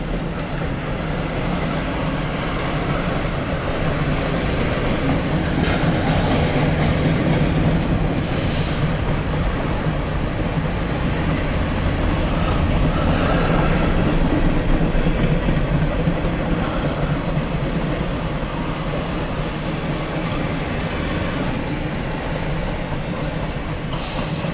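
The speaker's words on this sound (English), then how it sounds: "That's the damn train." An empty Norfolk Southern freight trash train rolls past in a steady, loud, continuous rumble with rhythmic clickety-clack of wheels over rail joints, filling the whole stretch without letup.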